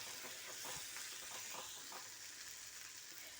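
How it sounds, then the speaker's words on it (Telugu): Onions, tomatoes and dried red chillies fry in hot oil, giving a steady, soft sizzle with faint stirring scrapes, quiet and alone. "ఆనియన్స్, టమాటా, ఎండుమిర్చి వేయించుకుంటున్నాను."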